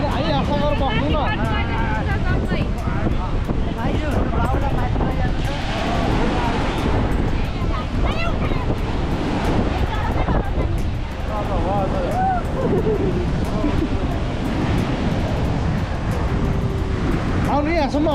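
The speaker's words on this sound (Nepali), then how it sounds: "छाल बढ्दै आउने" Ocean waves roll onto the sand at Manly Beach in Sydney, a loud, continuous wash of surf and rushing water mixed with heavy wind buffeting the microphone throughout.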